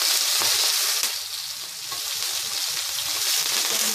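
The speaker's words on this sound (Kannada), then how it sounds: "ನೀಟಾಗಿ ಈಗ ಫ್ರೈ ಮಾಡ್ತಾಯಿದ್ದೀನಿ." Dense, loud sizzling of chana dal frying in oil in a pan, a continuous hiss with brief stirring scrapes, no voices.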